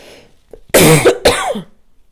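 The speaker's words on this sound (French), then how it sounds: "je vais encore tousser" Two harsh, loud coughs close up, one right after the other, with a faint breath just before.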